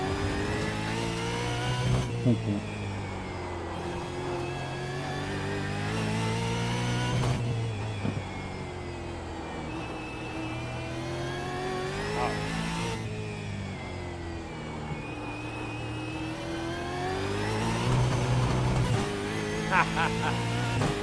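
A V8 race car engine at a Detroit vintage racing practice session, steady mid-pitched engine drone with rising revs through gear changes, continuous and fairly loud, with someone talking over it throughout on a radio-style channel.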